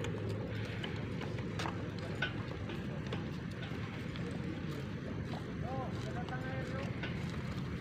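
Racehorses at morning training at a racecourse in Takengon, Aceh, with steady hoof clip-clops over a constant windy outdoor background and faint crowd voices.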